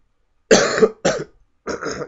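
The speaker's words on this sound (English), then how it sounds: "Excuse my cough." Three close, loud coughs, two rough bursts in quick succession and a third after a short pause, in an otherwise silent room.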